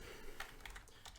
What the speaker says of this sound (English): can just type in virus scan